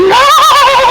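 A person imitating a horse neigh, one loud close whinny with a rising then wavering tone lasting about a second.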